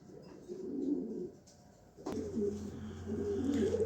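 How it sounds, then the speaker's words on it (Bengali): Pigeons coo in a loft of black checker birds, with a run of low, throaty burbling calls that pauses briefly and then resumes more continuously, close and fairly loud. "আসেন কবুতরগুলো দেখাবো।"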